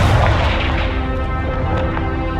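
Confringo spell explosion in Hogwarts Legacy, a loud, close booming burst at the start that rolls off into a rumbling tail with a few softer crackles.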